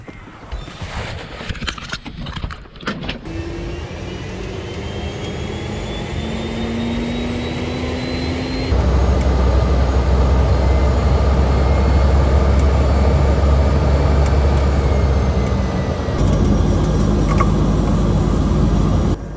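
An airplane taxis at Mafia Island airport in Tanzania, its engines a loud continuous drone with gliding tonal whines that swells and grows heavier midway, holding steady close by throughout.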